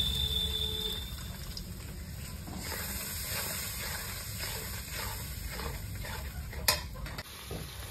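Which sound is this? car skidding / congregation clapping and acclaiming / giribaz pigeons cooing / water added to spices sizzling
water added to spices sizzling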